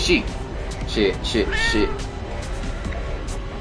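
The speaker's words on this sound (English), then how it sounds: "I pushed triangle and there was some cat. And when Neko went meow." A cat meows several times in the Tokyo Dark video game, short close mews repeated over game background sound and noise.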